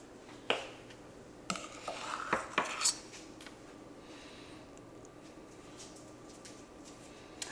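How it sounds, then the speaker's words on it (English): A spoon scrapes and taps against a dish while deviled eggs are filled, with a handful of light metallic clinks and scrapes close by in the first few seconds, then near quiet. "So you just spoon up a little bit and dab it in there"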